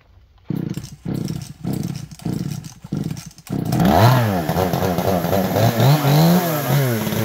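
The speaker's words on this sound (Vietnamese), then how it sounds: "Máy cưa đó là máy cưa GZ4350 nha các bạn" A GZ4350 gasoline chainsaw cutting a large tree gives steady loud buzzing with short gaps, then revs up into a rising and falling whine that holds to the end.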